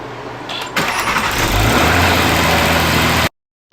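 A new Land Rover Defender P400 engine starts and runs loudly with a steady roar, then cuts off abruptly into silence.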